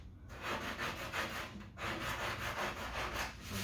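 Excess bondo being sanded off a repaired car body dent: a steady, close, back-and-forth abrasive rubbing in regular strokes with one brief pause, no talking.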